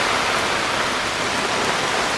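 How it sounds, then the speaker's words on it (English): Strong rain pours down in a forest in Indonesia, a dense, even hiss of heavy downpour filling the scene without pause, loud and close, with no voices. "the rain is strong"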